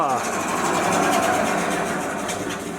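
A vintage Soviet Stanko 1A616 lathe runs after being switched on, giving a steady, close mechanical whir and hum that holds evenly throughout.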